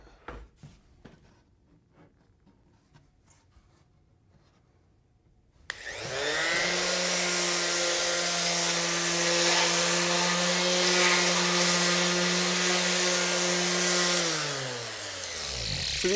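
A power sander works flipped wooden table boards, starting abruptly after a quiet stretch and holding a loud, steady whine with a rattling buzz from loose pieces vibrating, then winding down at the end.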